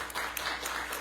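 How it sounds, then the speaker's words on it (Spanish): Applause from an audience at a university history-week lecture in Spanish, a steady wash of claps greeting the speaker, fairly faint and distant with a few sharper claps poking through. "Un fuerte aplauso, por favor, para la ponente"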